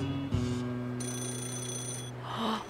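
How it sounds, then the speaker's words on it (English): A payphone ringing in the video game Yakuza 0, a steady electronic telephone ring with sustained tonal pulses, fairly quiet and alone with no talk. "Is that a phone ringing?"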